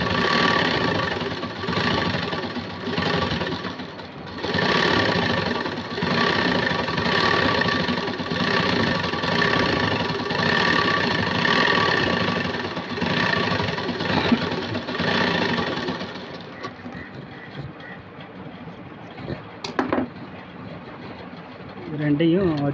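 A sewing machine stitching fabric for an Aari work princess-cut blouse, running in a steady, rapid mechanical chatter for about sixteen seconds, then falling to quieter, sparser handling sounds.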